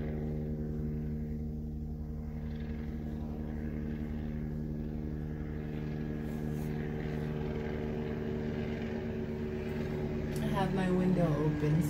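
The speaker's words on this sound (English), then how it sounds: "I've got the helicopters outside." Helicopters fly outside an open window on a hot day, a steady low mechanical hum and rotor drone carrying faintly indoors throughout, growing a little louder near the end.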